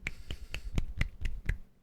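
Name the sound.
one-handed clap made with the fingers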